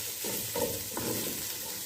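Vegetables and carrots sautéing in a pot for chicken soup, a soft steady sizzle with a couple of brief stirring scrapes, close and continuous with no voices.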